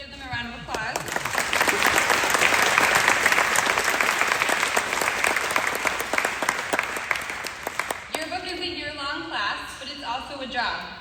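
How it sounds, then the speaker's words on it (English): Applause at a high school awards assembly for the student newspaper editors, many hands clapping in a full, sustained burst that fades out around eight seconds, after which a speaker resumes talking. "Let's give them a round of applause."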